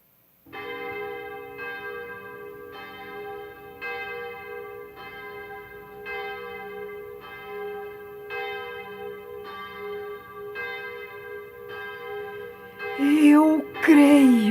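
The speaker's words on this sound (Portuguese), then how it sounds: "Quando os sinos tocarem" Church bells ring in a slow, steady, even sequence of about a dozen strokes, each with a long ringing tail. Near the end a voice rises over the last strokes.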